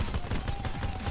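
Rapid bursts of automatic gunfire from a video game, fairly close, firing in a quick stuttering rhythm with no talking.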